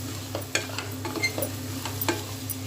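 Masala fries in oil with country tomatoes in a pan, a low sizzle under quick, light scraping stirs spaced about every half second, close and with no talk.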